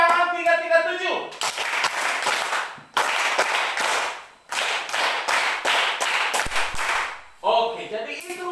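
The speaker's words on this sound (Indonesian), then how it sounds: "Sekali lagi tepuk tangan 337" A classroom of students claps in unison in the rhythmic 3-3-7 pattern, crisp bursts of hand claps separated by short pauses, with a teacher's voice speaking at the start and end.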